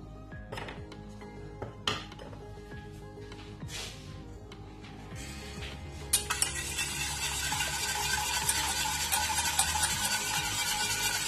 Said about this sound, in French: je vais chercher mon petit fouet pour battre un peu parce que ces petits grumeaux qui sont dedans là, ça ne me plaît pas du tout